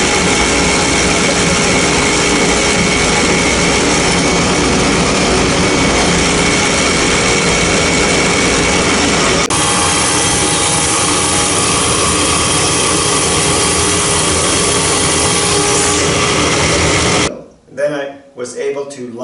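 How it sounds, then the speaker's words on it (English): A thickness planer runs continuously as wooden boat stems are fed through it to match the keel's thickness, a loud, steady machine roar with a tonal shift partway through, ending in a few choppy bursts. "I'm now just running through the thickness planer to get them to the proper thickness"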